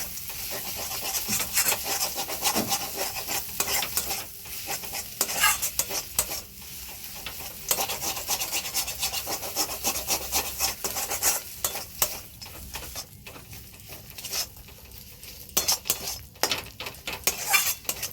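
Banana flower chop mixture with fried peanuts being stirred in a pan, a steady scraping and rubbing of utensil against the pan with faint sizzling, close and continuous with no voices.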